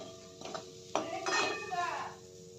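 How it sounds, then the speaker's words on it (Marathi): A spoon stirs homemade mushroom curry in a metal pan, giving close clinks and scrapes against the pan with a faint sizzle underneath, a few distinct knocks then a longer scraping stir. "हलवून घ्यायचं चांगल्या पद्धतीने."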